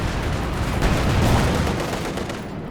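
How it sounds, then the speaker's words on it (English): Heavy mortar fire in Company of Heroes 2 battle, a dense rumbling barrage of blasts and impacts, loud and continuous, with scattered crackling gunfire mixed in. "the heavy mortar's hitting hard"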